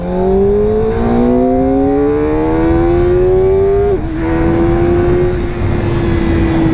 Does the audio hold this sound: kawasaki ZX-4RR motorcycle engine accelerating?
yes